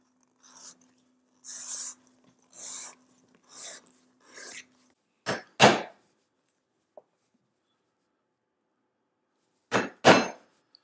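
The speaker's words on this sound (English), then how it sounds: "This leather is super nice to punch." Veg tan leather being punched with a tool: a few soft scraping strokes, then sharp, loud mallet strikes in quick pairs, separated by silence.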